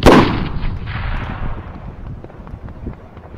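A WW2 grenade blast in a battle scene, a loud close boom that rolls off into a long rumbling decay with scattered gunfire cracks beneath it.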